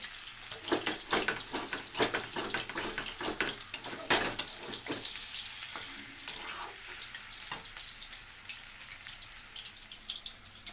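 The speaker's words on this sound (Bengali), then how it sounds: "এখানে জল দেবো, জল খুব সামান্য দিব" A small splash of water hits a spice mixture frying in a pan. It brings a burst of hissing sizzle with irregular crackles and clatters of stirring, and the sound slowly calms toward the end.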